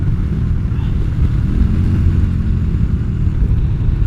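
A Yamaha Virago XV250 with rejetted carburettor pulling away from a stop, a steady low engine rumble with dense exhaust pulsing, loud and close without any change in pitch.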